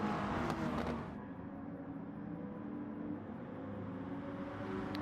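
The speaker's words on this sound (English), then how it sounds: "The might of the Viper and the V10 truck engine." A Dodge Viper with a V10 engine in a racing video game, giving a steady mid-level engine drone with a brief louder surge at the start, then an even hum with no talk.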